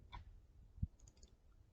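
A single sharp mouse click in Microsoft Excel, one brief close tap set against quiet room tone with a faint tick just before it.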